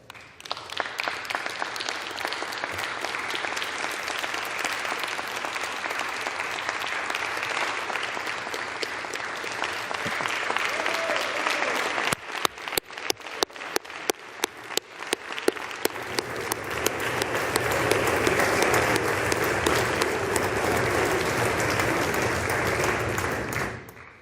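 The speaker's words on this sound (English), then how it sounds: "They are true heroes, and they deserve all of our applause today." Sustained applause fills a legislative chamber honoring Capitol Police officers, a steady dense wash of clapping from many hands that briefly thins to scattered claps midway before swelling again.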